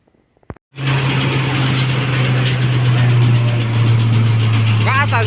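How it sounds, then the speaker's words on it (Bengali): An engine powering a paddy-cleaning winnowing machine starts and runs with a loud, steady droning hum and rushing air, close by, with brief voices near the end. "আমরা ওখানকার গাড়িটা স্টার্ট করে দেখাবো যে আমাদের গাড়িটা কতটুক বাতাস"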